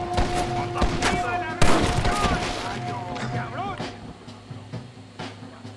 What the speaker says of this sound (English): She's already dead and I just keep shooting her.